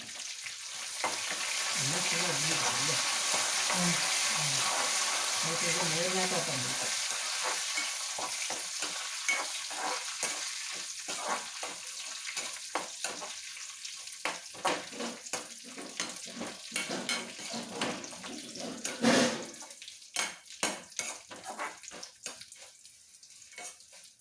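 Shallots, chillies and curry leaves fry in hot oil for a Kerala ash gourd dish, giving a steady close sizzle at first, then thinning into scattered crackles and spatters with a louder pop near the end.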